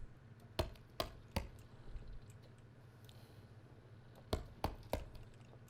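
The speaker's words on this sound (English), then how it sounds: "Let's continue chopping down these trees." Trees are chopped in the Kingdoms and Castles city-building game, sharp distinct wood-chop clicks in two quick groups of three, faint and spaced against a quiet ambient backdrop.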